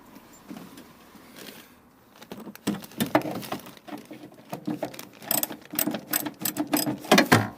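A socket wrench ratchets on the 17mm hex head bolts of a Vauxhall Combo C van's rear bumper, starting with quiet clicks and then building into rapid, loud, close bursts of ratcheting clicks.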